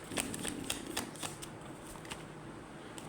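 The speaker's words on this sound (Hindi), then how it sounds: "Please give me 1 more card, एक कार्ड और दे दीजिए।" Tarot cards shuffled and drawn by hand, a quick run of crisp riffling snaps and slaps, close and fairly soft, easing into quieter rustling without any talk.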